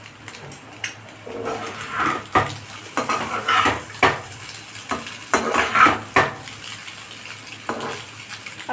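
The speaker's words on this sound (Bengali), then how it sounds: "তারপর ভালো করে একটু উল্টে পাল্টে ভেজে নিব" Raw banana slices with boiled egg and paneer being turned and stirred in a frying pan, with repeated clinks and scrapes of a utensil against the pan over a soft background sizzle.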